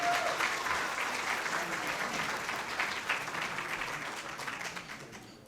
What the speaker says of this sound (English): please, again, give them a round of applause